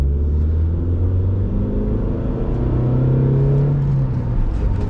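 Steady, loud engine rumble from a fifth-generation Honda Accord accelerating in second gear on LPG, with a small exhaust leak. The drone continues throughout, with no voices.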